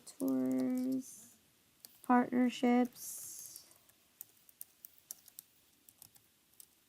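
Light clicking from a computer keyboard in a quiet room, a scattered run of small taps through the second half after a few spoken words at the start.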